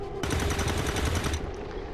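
Rapid automatic gunfire in the video game XCOM 2 as an overwatch shot is triggered: a loud, close burst of about a second, fast and rattling, then a short fading tail.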